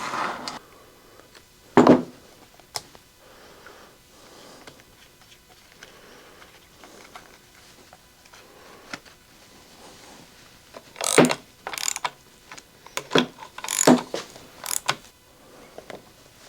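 Quiet metallic clicks, ratcheting and handling noises come up close as a bar and full chisel steel chain are fitted onto a Stihl 026 chainsaw, sparse at first and then a cluster of sharper clacks near the end.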